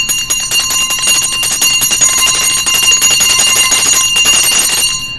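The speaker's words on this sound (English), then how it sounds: "let me ring this bell." A handheld bell rings rapidly and continuously for several seconds, loud and close, its bright metallic tone shimmering steadily with no talking over it.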